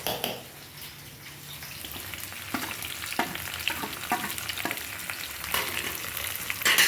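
Onions, tomato and ginger garlic paste sautéing in a pan for a Tirunelveli-style mutton lung gravy, a steady close sizzle and frying hiss punctuated by repeated scraping stirs of the spoon, with no talking.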